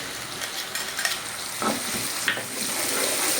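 Shallot paste sautés in hot oil in a pan for a prawn gravy, with a steady sizzling hiss and a few soft scraping stirs.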